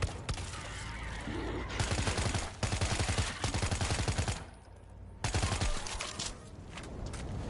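Gunfire in World War Z rattles in rapid bursts against a lurker, several loud stretches of repeated shots separated by short pauses, with no talking.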